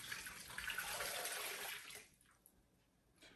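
Beef broth pours into a pot while cooking a brisket cobbler, a close, bright liquid stream for about two seconds. It stops abruptly, leaving faint kitchen ambience.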